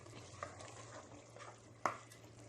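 Minced meat kheema frying on high flame, a faint steady sizzle with occasional soft stirring scrapes and one brief clink, heard quietly over a low hum.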